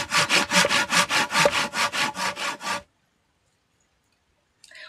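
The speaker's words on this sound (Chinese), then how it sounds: "我在锯木头，我要烧火。" A hand saw cuts through wood for firewood in about a dozen quick, even back-and-forth rasping strokes, close and loud, followed by sudden silence.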